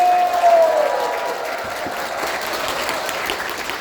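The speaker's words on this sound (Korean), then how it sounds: "박수 한번 주셔버리세요" Audience applause at a Korean political party lawmaker's constituency report meeting, a steady wash of clapping from a hall crowd that holds at moderate level throughout.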